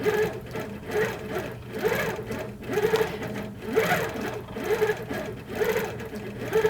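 An HQ Avanté longarm sewing machine quilts steadily, its close, loud stitching hum pulsing in regular rhythmic surges throughout with no talk.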